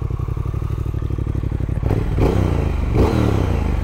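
A 2022 Triumph Speed Twin with a 270 degree crank twin engine, idling with a steady throbbing pulse and then blipped twice into loud, rising revs.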